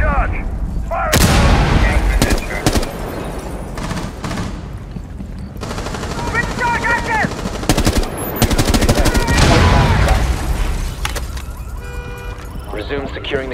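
A breach charge blows in Rainbow Six Siege ranked play amid gunfire, giving heavy booming blasts and bursts of shots at close range while voices speak throughout.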